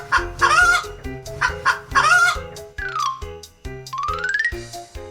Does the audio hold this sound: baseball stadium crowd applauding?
no